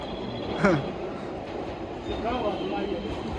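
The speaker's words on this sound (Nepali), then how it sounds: "कस्तो खाले ट्रेन यार लोकल ट्रेन" A local train in Japan rumbles past at close range with wheel noise and a brief squeal, while people talk over it.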